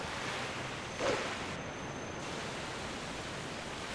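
Rushing river water in Zelda: Twilight Princess, a steady broadband roar of fast-flowing water with a brief louder surge near the start and no speech.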